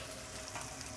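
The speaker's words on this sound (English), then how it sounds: "I'm going to put these fermented black beans in there. Give everything a toast" Fermented black beans toasting in a hot pan, giving a quiet, even sizzle and crackle for about a second.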